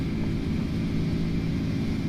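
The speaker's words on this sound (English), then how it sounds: "We are accelerating nice and fast in the A310 here." An Airbus A310 jet in Microsoft Flight Simulator 2024 accelerating down the runway on a rainy takeoff roll out of Tashkent, a steady loud engine roar with deep rumble, continuous and alone.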